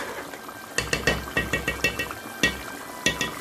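Spoon scraping and clinking in a hot pan as clarified butter (niter kibbeh) goes into lamb firfir, an Ethiopian dish, with a faint frying hiss beneath a series of close, irregular metallic strokes.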